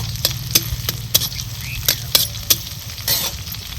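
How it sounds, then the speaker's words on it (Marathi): Green chillies roast in a pan with a steady sizzle and low frying hiss, punctuated by crisp metallic scrapes and clinks of a spoon stirring at a fairly regular pace, close up. "मस्त अशी आपली मिरची भाजत आलेली आहे चांगली भाजून घ्यायची"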